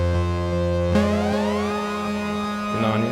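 A Moog Sub 37 synthesizer with glide on one oscillator holds a steady buzzy tone, then a second note slides smoothly upward in pitch over a couple of seconds and settles, loud and clean with no talking.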